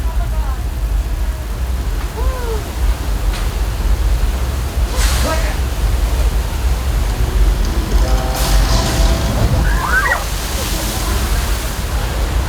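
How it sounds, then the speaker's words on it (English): Rushing flood water pours down a hill toward an open tram on the Universal Studios tour, a steady broad roar heard nearby under riders' voices and a guide's amplified talk. "Major flash flood coming down the hill into the tram"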